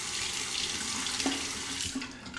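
Tap water running steadily into a sink while a Dovo Primo straight razor is rinsed under it, close with faint splashing changes.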